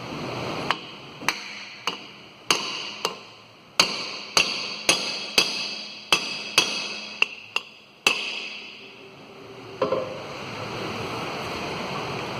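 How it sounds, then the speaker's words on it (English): A stuck brake drum on a Hyundai i10 wheel hub takes about fifteen sharp, ringing metal hammer blows in an irregular rhythm, close and loud, followed by a softer scraping rattle as the drum loosens. "So we'll hammer this surface and remove this drum."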